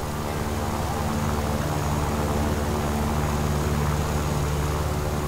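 A propeller fighter plane climbs in the War Thunder video game, its engine giving a steady, loud drone with a constant harmonic hum that holds throughout without a break.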